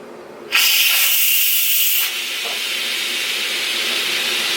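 An Instant Pot depressurizing after cooking vegetable beef soup releases a sudden loud, steady hiss of steam that starts abruptly, then eases to a slightly softer continuous rush, close by.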